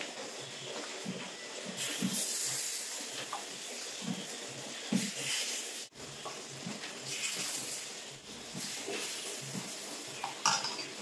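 Pitha batter going into a hot mould on a gas stove gives a steady sizzle and hiss. Light scraping, tapping and clinks from utensils and a pan come through over the roughly eleven seconds, with no one talking.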